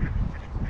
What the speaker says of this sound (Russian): Это дикая утка, и она крупнее, чем обычная вот эта серая уточка